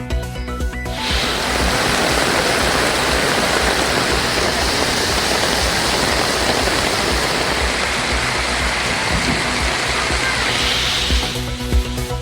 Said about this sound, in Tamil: கனமழையால் சாலைகளில் பெருக்கெடுத்து வெள்ளம்